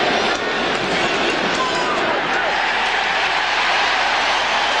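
A baseball stadium crowd roars after a home run during a 2000 playoff game between the Braves and Cardinals, a loud, steady wash of cheering that fills the whole stretch.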